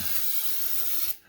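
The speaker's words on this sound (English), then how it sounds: "I'm gonna throw a little bit more cooking spray on here" A single steady burst of cooking spray from an aerosol can onto a seared top round roast in an air fryer basket; close, loud hiss lasting about a second, then stopping abruptly.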